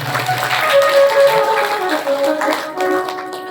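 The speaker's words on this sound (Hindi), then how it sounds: "एक बार पुनः आप सब लोग अपने लिए जोरदार ताली बजाएं" A crowd gathered for a Hindu devotional katha claps loudly and steadily for several seconds, with sustained musical tones ringing beneath the dense, close applause.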